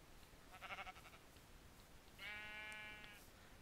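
Sheep bleating in Minecraft: a short bleat followed by a longer, steady tonal bleat a second later, clear over a quiet background.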